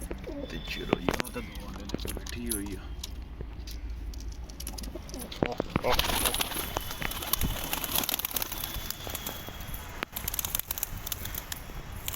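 Domestic breeding pigeons coo repeatedly nearby in soft, throaty bursts, with rustling and occasional clatter, and people talking in the background.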